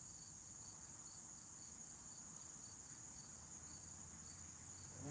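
Outdoor crickets at dusk near a carp fishing spot keep up a constant, evenly pulsing high chirp, moderately loud and alone without any talking.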